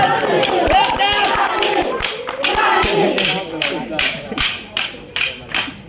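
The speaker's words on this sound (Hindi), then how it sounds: "ताली बजाइए भाई, दर्शक थक गए क्या? ताली बजाइए" Scattered hand claps from an audience at an outdoor stick-fighting competition, sharp and irregular, ringing out over a loud voice and crowd noise.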